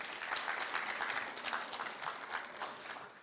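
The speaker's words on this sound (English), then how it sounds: "Can we give the hackers of Cisa another round of applause" Audience applause fills a hall at a national ICT summit, a dense, steady wash of many hands clapping at fairly even loudness throughout, with no voices standing out.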